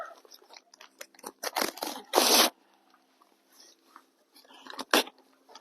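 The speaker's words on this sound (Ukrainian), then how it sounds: "переходимо, друзі, до відкривання одного мішечка Пегаса євролайтингового" A sack of Pegasus sunflower seeds, a Euro-Lightning hybrid, being torn and opened: several crinkly rustling and ripping bursts, one loud sustained tear in the middle, with quiet handling between.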